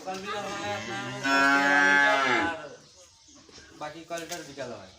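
A dairy cow on a farm gives one loud, drawn-out moo close by. Faint voices and low calls follow it.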